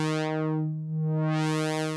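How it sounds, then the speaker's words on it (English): Sustained synthesizer tone through a 12 dB low-pass filter with low resonance, a steady harmonic drone whose brightness sweeps down and back up over two seconds, no voices. "So low sounds like this."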